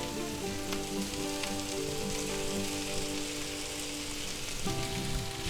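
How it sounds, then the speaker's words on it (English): Ham sizzles and fries in a hot pan for an egg breakfast quesadilla, a steady close crackling hiss with no talk over it. "let's go ahead and add our ham in"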